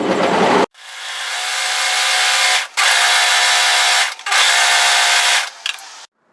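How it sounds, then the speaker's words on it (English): An overlocker trims and finishes the raw edge of cardigan fabric at the centre front and hemline, a loud, fast mechanical whir in three long bursts separated by brief pauses. "First thing I'm going to do is just overlock secure the raw edge of the centre front and the hemline"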